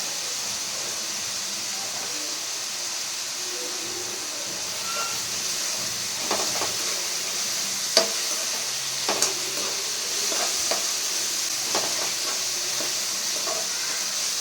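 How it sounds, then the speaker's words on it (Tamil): Onions with rock salt, green chillies and curry leaves sautéing in a pan for chicken kulambu, a continuous close sizzle with intermittent spoon scrapes and clinks, no talk. "எல்லாம் நல்லா வதங்கட்டும்."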